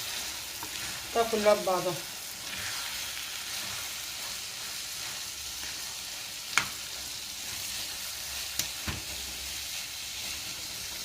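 Half a kilo of minced meat sizzles steadily in a pan, with a few sharp scrapes and clacks of stirring; someone speaks briefly near the start over the frying.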